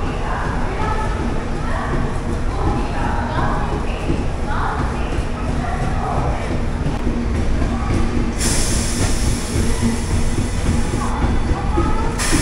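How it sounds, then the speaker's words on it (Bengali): Inside the AC coach of the 18616 Hatia Express on a night run from Ranchi toward Howrah, a loud, steady rumble of rolling wheels and rattling carriage fills the scene, with muffled voices underneath. "তো ট্রেন সিগন্যাল হয়ে গেল, হাওড়ার উদ্দেশ্যে ট্রেন ছেড়েও দিল।"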